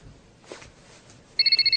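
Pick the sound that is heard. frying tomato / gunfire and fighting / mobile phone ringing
mobile phone ringing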